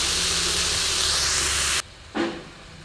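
Pumpkin and spinach greens frying in a hot pan, giving a loud, steady hissing sizzle that cuts off abruptly and then flares briefly again as the mix is stirred.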